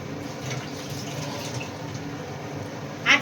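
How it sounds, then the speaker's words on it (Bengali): Water poured into a pan of simmering tengra fish curry, a steady trickling wash running for a few seconds before a brief louder splash at the end, with no voices. "একটু জল দেবো"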